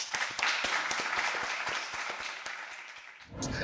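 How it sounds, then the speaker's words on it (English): Audience at a startup pitch event applauds to welcome a founder to the stage, a lively patter of many hands that tapers off before a voice starts at the close. "With a round of applause, let's welcome our third founder up."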